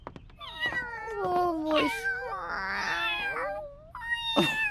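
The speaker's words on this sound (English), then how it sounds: "Especially with these 4 kitties." Several kittens meow in quick succession, high wavering calls that overlap and rise in pitch, close and fairly loud, with a brief spoken exclamation.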